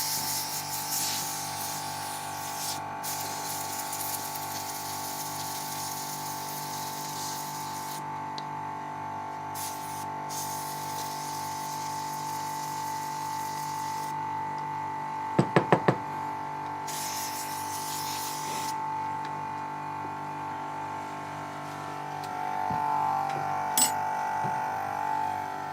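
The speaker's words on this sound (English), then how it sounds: "Sorry about the noise, it's just the compressor going." A small air compressor runs steadily through a sawmill service in a workshop. Its constant hiss and hum stays under a few brief clicks and taps.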